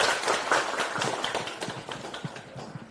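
Audience clapping at a Democratic Party meeting with a city mayor, a dense, steady patter of many hands that stays fairly loud throughout and tapers slightly toward the end.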